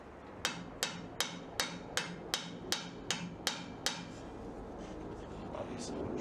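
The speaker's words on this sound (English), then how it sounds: "go ahead and get a hammer or something heavy to start tapping" About ten evenly spaced hammer taps ring out on a mud-caked 4L60E transmission at a steady rhythm, then stop, leaving a quiet background hum.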